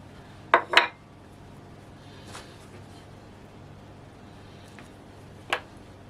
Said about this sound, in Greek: θα πάρω βούτυρο, το οποίο θα το κόψω σε φέτες